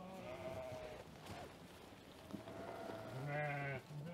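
Sheep bleating on a farm raising Edilbay, Akkarabas and Dorper breeds, several harmonic bleats from close range with a louder, longer call near the end over a steady farmyard background.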